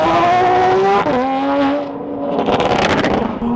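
Porsche GT3 RS supercar engine revving loudly at close range, a high sustained wail that climbs, dips briefly and then rises again with crackling overrun, alongside other supercars.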